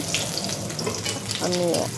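Pointed gourd (potol) slices frying crisp in a pan, a soft steady sizzle with some watery background noise and a brief tonal hum near the end.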